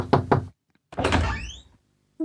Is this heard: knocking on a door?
yes